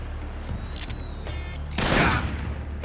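Gunfire burst in Metal Gear Solid 3: Snake Eater, a loud, dense crackling volley that erupts near the end after a quieter stretch with a few faint sharp clicks.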